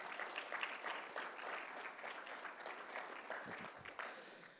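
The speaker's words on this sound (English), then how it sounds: "give a round of applause for the teams that have made it this far" Audience applause for the finalist teams at a sports analytics conference's daily fantasy challenge, a steady dense clapping that holds at an even level throughout without a break.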